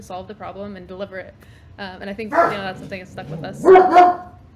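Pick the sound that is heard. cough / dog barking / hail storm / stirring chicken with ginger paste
dog barking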